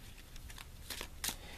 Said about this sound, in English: So taking the deck in my hands, going to shuffle the cards,